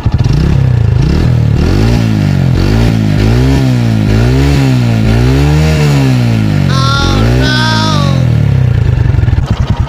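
An XRM125 motorcycle engine revs up and down in repeated waves close by, with a metallic rattling clatter from the cam chain tensioner running underneath.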